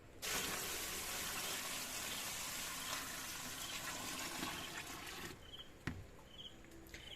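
Water is poured steadily into a container to mix a homemade all-in-one liquid fertilizer for plants, a loud continuous gush that runs for about five seconds and then cuts off, leaving a faint drip and a clink.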